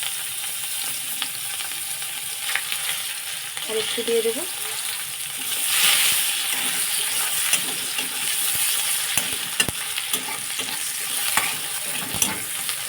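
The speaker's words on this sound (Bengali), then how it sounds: "এই যে দেখো পেঁয়াজ কুচি দিয়ে দিলাম" Chopped onion sizzles and hisses in a wok of oil left over from frying fish, before ivy gourd goes in, with occasional stirring scrapes. It fries steadily throughout, and someone briefly speaks over it.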